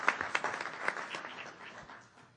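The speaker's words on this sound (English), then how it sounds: "I think you all deserve a round of applause for your work over the years." Board meeting attendees give a short, quiet round of applause, scattered hand claps that start fairly dense and fade out over a couple of seconds.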